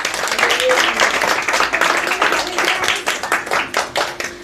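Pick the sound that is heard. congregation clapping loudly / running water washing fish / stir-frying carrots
congregation clapping loudly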